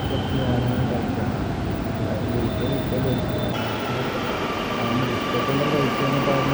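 Kochi metro train running, a loud continuous rumble of wheels and motors filling the whole stretch, with a faint high whine and a slight shift in tone midway, no talk.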